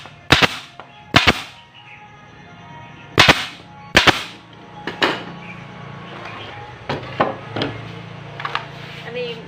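Nail gun firing nails into scrap wood while building a shoe cabinet, sharp loud cracks at irregular intervals, several in quick succession, followed by softer knocks and handling noise.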